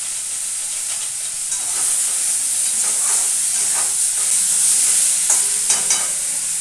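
Turmeric goes into a hot frying pan, and a loud close sizzle builds and holds steadily. Occasional stirring scrapes and crackles rise over the continuous hiss.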